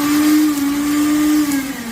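Suruchi Elantra 800-watt blender, made in India, running with a steady, loud motor whine close by, holding an even pitch for about two seconds with no talking.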